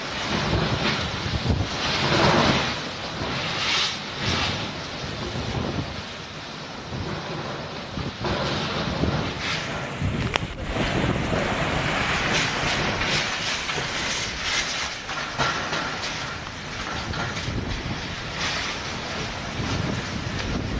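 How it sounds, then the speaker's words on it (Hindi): Strong Cyclone Nisarga winds blow at Alibag at about 90 to 110 km/h, making a continuous loud roar with heavy gusty buffeting on the microphone throughout. "तेज रफ्तार से हवा चल रही है। लगभग 90 से 110 किलोमीटर प्रति घंटे की रफ्तार से हवा चल रही है।"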